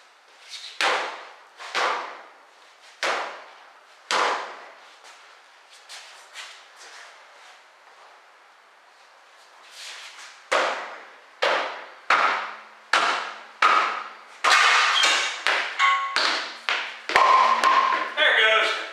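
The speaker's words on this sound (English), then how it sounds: "We just got to get a bigger hammer." Hammer blows strike a stuck part on a 2000 BMW 323Ci, loud sharp single hits in irregular bursts, spacing out, then pausing, then a faster rapid run of strikes near the end.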